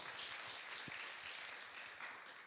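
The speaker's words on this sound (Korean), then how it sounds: "큰 박수 부탁드리고요" An audience claps to welcome a professor onto the stage at a trauma-healing talk concert, with a fairly soft, even spread of applause heard from some distance and no voices on top.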